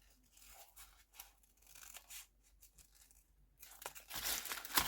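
A strip of paper being cut with care, heard close up as rough, scratchy tearing and snipping in uneven bursts that swell louder near the end.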